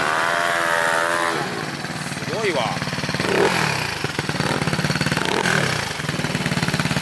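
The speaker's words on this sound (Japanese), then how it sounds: "初期マフラーやもんね。" A scooter engine with a stock muffler revs and idles close by at a scooter meetup, rising and falling in pitch in a few bursts while people talk over it.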